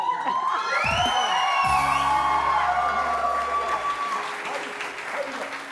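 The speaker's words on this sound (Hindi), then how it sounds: "अरे सुनने के लिए तो तालियां बजा दो" A television talk-show studio audience applauds and cheers loudly while a short musical sting plays over the clapping, which then carries on more softly.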